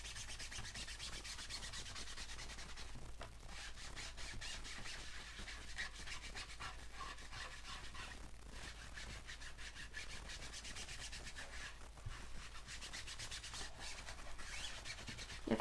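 A craft Christmas tree piece being lightly rubbed clean by hand gives a steady, continuous scratchy rubbing that runs unbroken and fairly close for about sixteen seconds, with no talking.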